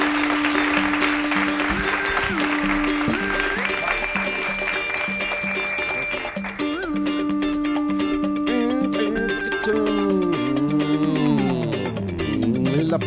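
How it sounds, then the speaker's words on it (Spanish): Applause from a live comedy-show audience, steady clapping running the whole stretch beneath prominent music with sustained melodic tones and a rhythmic bass line. "El aplauso"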